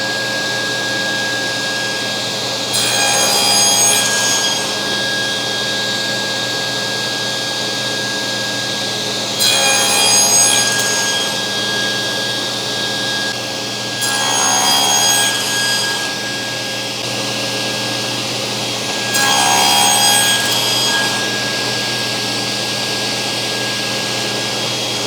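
Four separate saw passes cutting small wooden splines against a stop block, each a few seconds of loud, rasping cut between steady workshop hum; no one talks.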